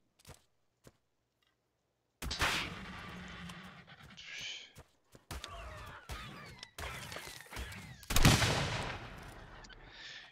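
Sharp gunshots from a primitive gun in a video game, several loud bursts fired at irregular intervals after a quiet start, mixed with other game effects.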